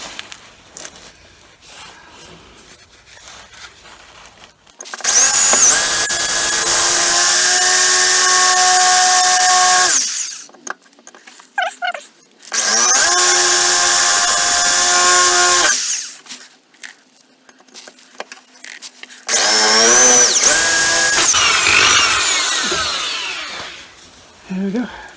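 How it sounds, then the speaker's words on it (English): A power drill drilling a pilot hole whines loudly in three long bursts of several seconds each, separated by short pauses with faint handling noises. "Okay, so I've got the drill"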